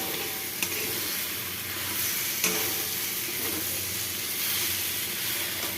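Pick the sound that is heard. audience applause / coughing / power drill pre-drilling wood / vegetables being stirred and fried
vegetables being stirred and fried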